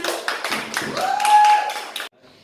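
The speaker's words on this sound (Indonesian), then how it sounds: "Beri tepuk tangan." A classroom group claps for a student group: about two seconds of brisk, closely spaced clapping from a small gathering that stops abruptly, with a sustained tone underneath.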